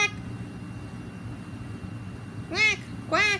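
A human voice imitates a duck, giving two loud, close quacking calls in quick succession near the end after a stretch of low background noise.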